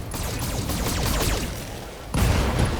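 Mech weapons fire in the video game Battletech, a loud, dense burst of overlapping shots and impacts running throughout, with a heavier blast landing near the end.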